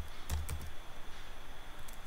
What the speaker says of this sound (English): Now you can type